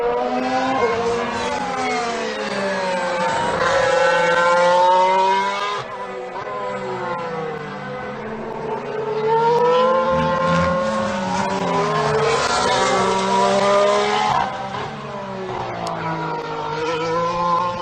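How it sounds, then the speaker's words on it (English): Toro Rosso Formula 1 car during pre-season testing at Barcelona, its high-revving engine screaming loudly through rising and falling gear shifts for the whole stretch, with no talk. "the GP2 engine behind it as well, Hartley and the Toro Rosso"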